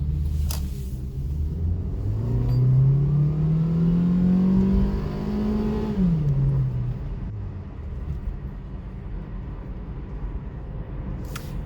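A low-power 115-horsepower car bought cheaply, with a fuse box fault, accelerating hard in a pull, its engine note rising steadily through the gears, then dropping back to a steady cruising rumble with road noise.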